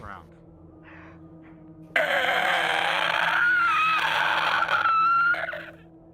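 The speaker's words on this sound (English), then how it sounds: "All of the creatures suddenly look in this direction and screech before running away further down to the tunnel." Sudden loud, harsh screeching cries erupt together in a tunnel, several creatures shrieking at once over a low hum, then cut off abruptly.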